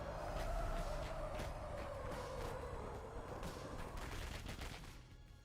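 A Gatling gun fires in rapid sustained bursts from a game trailer, heard quietly at a distance with a descending whine and a dense rattling crackle that tapers off over several seconds.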